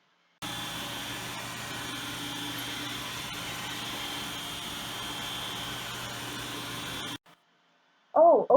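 A Roomba robot vacuum runs with a steady, close whirring hiss for about seven seconds, then cuts off abruptly and goes quiet before a short, bright electronic tone sounds at the end.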